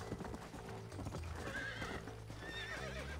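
A horse in the Red Dead Redemption video game gallops with rapid clip-clop hoofbeats and lets out a whinny, set against game music and ambience at a moderate level.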